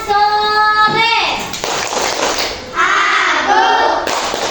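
Children clap along in rhythm to the Indonesian chant 'tepuk anak soleh' during a lesson, with sung voices and bursts of hand claps mixed together in a lively room.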